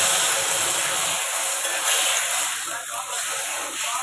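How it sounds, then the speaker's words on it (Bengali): Water hits a hot pan holding turmeric and bursts into a loud, close hiss that settles into a softer steady sizzle. "এবার জল দিয়ে দিলাম।"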